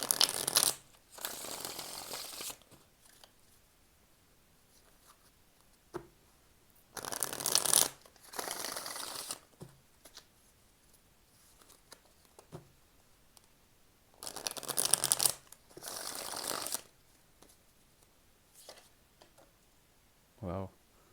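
Tarot cards are shuffled in a series of short riffling bursts, about six of them, separated by quiet pauses, with faint handling noise between them.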